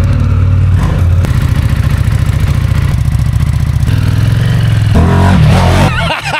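A 2004 Harley-Davidson Softail Deuce motorcycle revs hard as the throttle is cracked open, its loud, close engine roar holding steady, then climbing to a higher pitch near the end with no talking.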